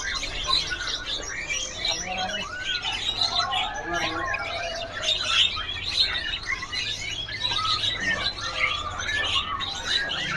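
Kutilang Sutra bulbuls chirp and call constantly at a bird shop, with many overlapping bright tweets and whistles at moderate loudness, along with faint background voices.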